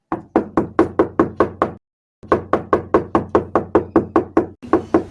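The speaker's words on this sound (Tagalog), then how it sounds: "Sino yung kumakatok?" Repeated knuckle knocks on a door, loud and close, in two steady bursts of rapid raps separated by a brief pause, with no voices.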